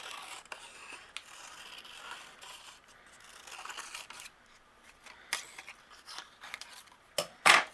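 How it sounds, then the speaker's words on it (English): Quiet paper rustling gives way to several crisp scissor snips, the last few sharper and louder, with no talking. "So I'm going to take this, use my scissors"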